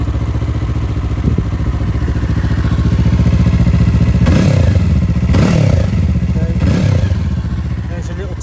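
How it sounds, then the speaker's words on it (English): A 2023 Yamaha MT03 parallel-twin engine idles with a steady, throbbing burble, then revs sharply three times in quick succession before settling back, loud and close. "There's your little twin cylinder engine, your little parallel twin."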